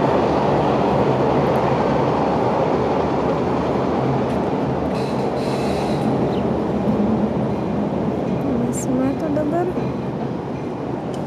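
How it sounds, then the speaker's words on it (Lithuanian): Trains rumble over bridges in Chicago, a continuous loud rail roar with a brief squeal near the end, heard amid busy city noise. "Čia visur tiltai, važiuoja traukiniais, va, jie visur girdisi nuolat"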